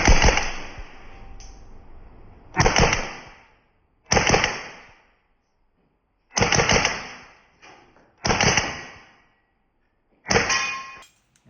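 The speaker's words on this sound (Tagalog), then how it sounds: "Firing." A WE Glock 18c airsoft gas blowback pistol fires six sharp, loud bursts of rapid shots, each short volley followed by silence, with close, crisp metallic cracks and no talk.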